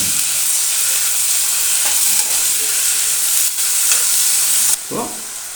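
Garlic and tomato sizzle and fry steadily in a hot pan for brinjal thokku, a continuous loud hiss with occasional stirring scrapes and a clatter near the end.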